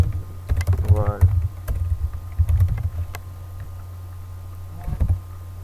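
Keys clack on a computer keyboard while C code is typed, irregular clusters of close taps separated by pauses, with a steady low hum beneath and a voice speaking briefly.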